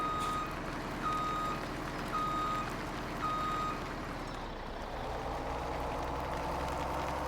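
A tipper truck reverses in Farming Simulator 17, its backup alarm sounding evenly spaced beeps, about one per second, over a steady engine idle and low rumble.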